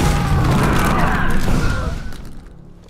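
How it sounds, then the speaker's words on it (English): A Force Repulse energy explosion from the video game The Force Unleashed starts as a loud, dense, roaring burst. It rumbles on steadily, then fades out over the last second. "the Force user draws all their power into them and then suddenly releases it in an explosion of energy"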